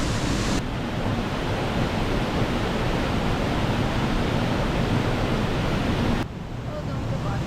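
A rainforest waterfall roars in a loud, constant rush of water close by, then drops slightly in level near the end.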